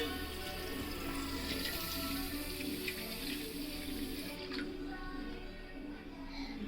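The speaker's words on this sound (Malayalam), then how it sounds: "ഞാൻ ഇപ്പോൾ ഇച്ചിരി പച്ചവെള്ളം ഒഴിക്കുന്നത്." Plain water is poured into a jar of loobikka fruit being pickled, a steady close gushing stream that runs continuously and then tapers slightly near the end.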